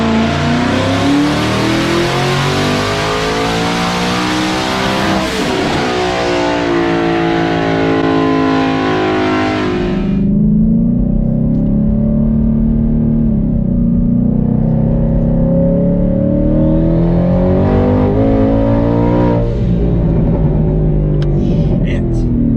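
A 2020 Ford Mustang GT fitted with a Hellhorse twin-turbo kit revs hard and climbs to a loud, full roar. The engine then drops to a deep, rumbling idle before revving up again. The car is close and loud.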